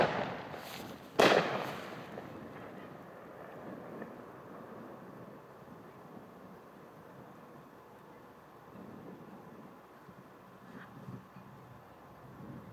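A Brave Warrior 16-shot firework cake with a double break effect fires one loud, sharp burst near the start, followed by a long, quiet outdoor stretch and a faint later pop.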